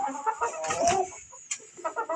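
A flock of hens clucks inside a small crowded coop, several birds calling close together in short overlapping bursts, with one louder squawk near the middle.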